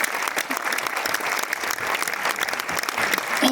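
Audience applause at a Cannes presentation honoring Pino, with guests such as Gaspar Noé being called up; dense, steady clapping fills the whole stretch at close range.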